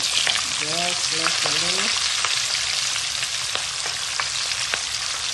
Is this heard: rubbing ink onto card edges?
no